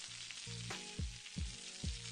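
Potatoes frying uncovered in pork adobo, a soft, quiet sizzle with several low thumping stirs of a spoon spaced through it.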